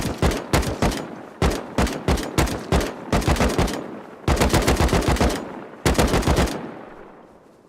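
Rapid automatic gunfire from a gun fired from the hip in Rust, loud and close, in several sustained bursts with brief gaps between them and a ringing tail at the end.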